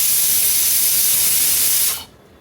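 Pressure cooker whistle on a pot of white kidney bean curry lets out a loud, sustained steam hiss that cuts off abruptly near the end, leaving quiet.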